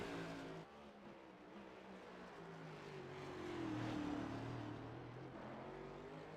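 Race cars on the Chicago Street Course roar past at a distance, a steady engine drone that swells and pitches through a pass midway, with no talk over it.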